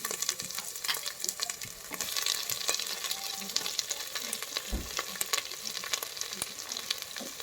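Capsicum and potato frying with onion in a pan, a dense, continuous crackling sizzle with frequent sharp spatters and occasional stirring knocks, close and steady throughout.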